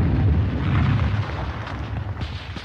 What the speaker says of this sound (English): Tommy gets them Nazis by firing the mortar himself.